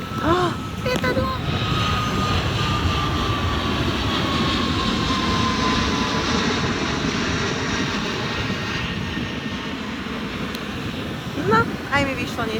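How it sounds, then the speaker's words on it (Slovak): Fixed-wing airplane passing overhead near Phuket, Thailand: a loud, steady engine roar fills the whole stretch, with faint voices underneath. "lietadlo!"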